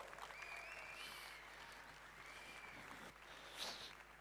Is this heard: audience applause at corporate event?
yes